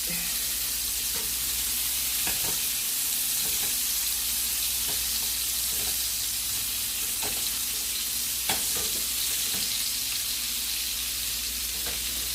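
Scallops sear in butter in a hot pan with a steady, loud, even sizzle and occasional faint ticks, no voices over it.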